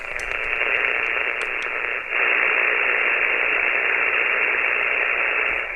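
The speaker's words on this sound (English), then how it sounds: "a nice little grinding S2 background noise sitting there pulsing" A steady grinding, pulsing band of interference noise fills a ham radio receiver tuned near 50.125 MHz, a dense hiss with a brief dip partway through and no voices.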